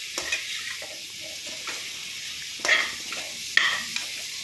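Horse gram kurma ingredients and spices are stirred and sautéed in a pan, with a steady low sizzle broken by a few louder scraping stirs of the spoon against the pan.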